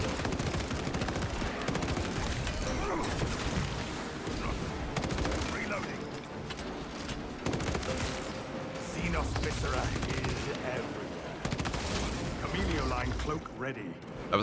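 Dense, continuous gunfire and explosions fill a Space Marine video game battle, with rapid bursts layered over a loud, unbroken roar and a voice talking over the action.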